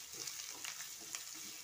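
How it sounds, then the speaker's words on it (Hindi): Cabbage, carrot and capsicum sauté in a hot pan for veg chow mein, giving a steady close sizzle with light stirring scrapes and a few soft clinks, no talking. "इन सब वेजिटेबल्स को थोड़ा सा सौते कर लेते हैं।"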